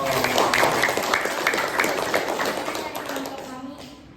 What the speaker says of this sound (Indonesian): Oke, buat tepuk tangan dong.